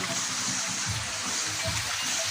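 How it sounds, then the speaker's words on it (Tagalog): River water flowing steadily outdoors, a continuous broadband rush and gurgle with soft splashes, loud and close, no talking. "Ayan siya yung ilog."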